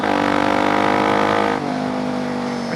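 A motorcycle engine drops in revs partway through as the rider brakes and downshifts into a turn, a loud, steady drone that falls to a lower pitch.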